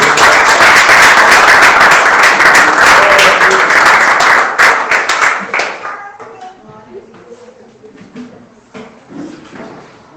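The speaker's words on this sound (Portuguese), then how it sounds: "E pode dar mais uma salva de palmas a Ele." A church congregation applauds loudly for several seconds, then the clapping thins to scattered claps and fades under murmuring voices and some shuffling and knocking.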